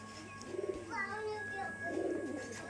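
A coffee dobaj pigeon coos nearby in soft, repeated rolling phrases, with faint voices in the background.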